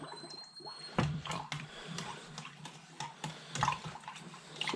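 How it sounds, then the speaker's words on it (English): Warm water pouring into a jar of sugar while making 1:1 sugar syrup for bees, a splashing, gurgling stream with clinks and sloshes, close and fairly loud, no talking. "And then we'll put more water in."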